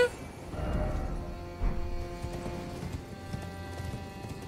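Horse hooves clip-clop at a steady trot in the video game Elden Ring Shadow of the Erdtree, close and clear, with a brief whinny and faint game ambience behind the rhythmic steps.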